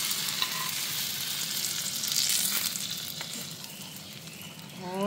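Cumin seeds sizzle and crackle in hot oil for tempering mint chutney, a steady close frying hiss with small pops and a brief clink near the end.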